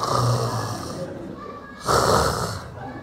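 A voice imitates a sleeping man snoring, giving two loud, rasping snore breaths up close, the second after a short pause.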